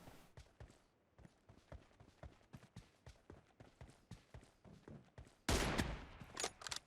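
Gunfire in PUBG Mobile cracks out in a steady run of sharp single shots, fairly faint and evenly spaced, before a louder, denser burst of firing near the end.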